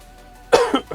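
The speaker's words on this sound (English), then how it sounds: "Bloody cough." A single sharp cough from a man, followed by a smaller second cough, close and loud after near silence.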